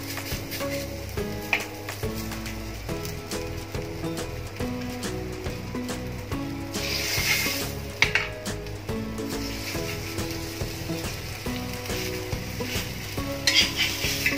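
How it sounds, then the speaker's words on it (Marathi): Frankie stick pieces shallow-frying in a little oil in a pan, a constant close sizzle with the crackle of spattering oil and occasional scraping and turning sounds, and no talking. "थोडंसं तेल टाकूया इथे आणि त्याच्यावरती हे शेकून घ्यायचे."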